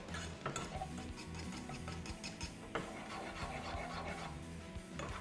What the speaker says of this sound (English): So definitely whisk it.